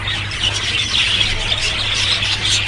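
A colony of Java sparrows in a breeding cage setup chirps and squeaks continuously, a dense, busy chatter of many small birds close by with no pauses.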